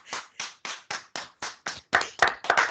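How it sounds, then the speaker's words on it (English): A few people at an online ERP bootcamp session clap for Kiana: about a dozen distinct, close claps in an even rhythm, thickening into a slightly fuller round of clapping at the end. "You deserve applause. So let's give it to her."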